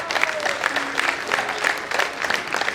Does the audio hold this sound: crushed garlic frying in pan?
no